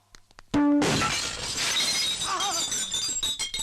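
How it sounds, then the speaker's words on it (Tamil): A loud, close crash of glass being smashed, a sharp burst of shattering followed by a long spray of tinkling fragments that rattle and settle over several seconds. "வாசப்படி நினைச்சு கண்ணாடி நொறுக்கி தள்ளிட்டாங்களே"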